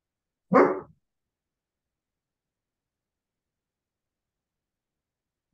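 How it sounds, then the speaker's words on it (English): A dog barks once, a short loud bark close by, followed by silence. "that's my dog Bear."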